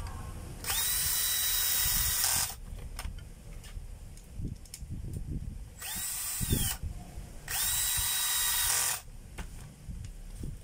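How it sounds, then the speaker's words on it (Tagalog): Power screwdriver driving two screws while reassembling a field coil and plug cord, three loud whirring bursts with rising pitch separated by clicks and handling clatter. "Kapit lang natin, dalawang screw mga kabay."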